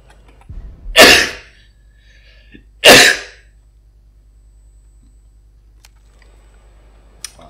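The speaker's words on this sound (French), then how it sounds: "j'ai dû éternuer" Two loud, sharp sneezes close to the mic, about two seconds apart, with a quiet room between them and a faint click near the end, recorded during a Resident Evil 3 gaming session.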